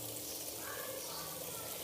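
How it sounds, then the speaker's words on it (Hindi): Ground meat keema with bitter gourd frying in a pan of oil, a soft continuous sizzle and hiss, fairly faint and steady with no talk. "ये देखिए कीमे की भुनाई हो रही है अच्छी तरह से।"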